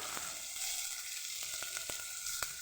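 Tomatoes with salt fry in a pan over a garlic and ginger spice paste, giving a constant soft sizzle broken by several sharp clicks of a spoon against the pan, with no talk.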